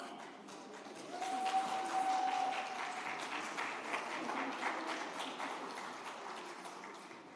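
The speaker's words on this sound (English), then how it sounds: "Round of applause for Exim." Applause from a summit audience for Exim Bank swells after a second into a steady, moderately distant clatter of many hands, then slowly thins toward the end.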